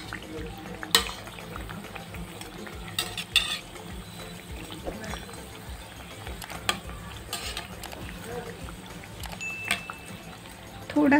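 Bread slices for shahi tukda frying in a pan: a steady, close, crackling sizzle runs throughout, broken by occasional sharp clinks and scrapes from the pan.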